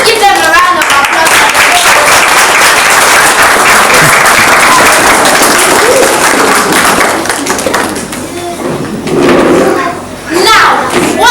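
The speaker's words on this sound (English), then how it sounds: "Please give them a round of applause" An audience at a Grade 5 school celebration of learning claps in a long, loud, dense burst of applause that fades slightly near the end, with children's voices mixed in.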